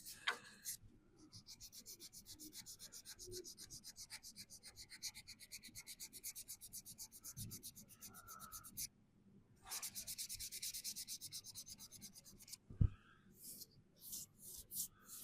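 High build filler being sanded by hand on a VW T25 van body, long stretches of steady rhythmic rasping strokes with a pause between runs and a sharp knock near the end, close and clear.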